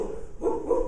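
A person imitates a dog barking with a short, close, voiced bark-like sound.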